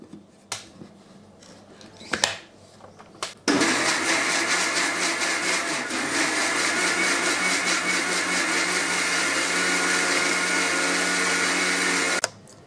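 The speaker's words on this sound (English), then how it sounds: "Now I'm going to get this entire mixture onto the mixie." Indian mixie grinding a betel leaf rasam mixture, a loud steady whirring drone that starts abruptly after a few clicks and handling knocks, runs evenly for about nine seconds, then cuts off.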